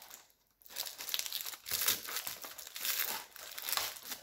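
Packaging crinkles and tears in bursts as a little door on a nail-care advent calendar is opened, close and fairly loud after a brief pause at the start.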